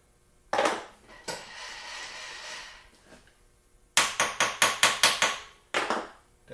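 A metal block is tapped down into a machinist's vise while a squareness gage part is being made. A few scattered knocks lead into a rapid run of about seven sharp, ringing metallic taps, then one more strike.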